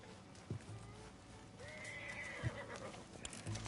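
A horse in the Red Dead Redemption 2 video game whinnies with a long rising neigh in the middle, while a few hoof thuds land now and then around it, fairly close and clear.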